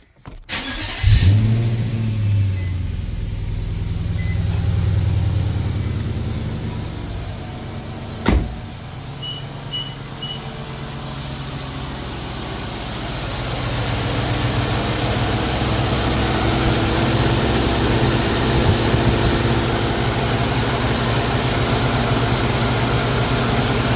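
Infiniti M45 with a VK45DE V8 started and idling after a pulley and tensioner repair, a steady close engine hum that settles in right after the start, with a brief click partway through and no talk.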